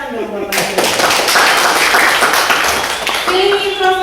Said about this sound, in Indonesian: Maka kemudian tepuk tangan dong Bapak.